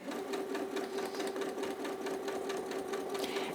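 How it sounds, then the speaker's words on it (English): A domestic sewing machine stitching through quilting fabric, running at a steady fast pace with a continuous rhythmic whirring hum, close and alone without talk. "It starts to make a different sound. The sewing machine sort of it sort of punches through as opposed to piercing through."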